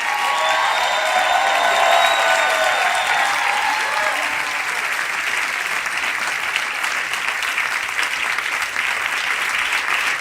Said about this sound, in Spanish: Aplaude a Cristo, aplaude.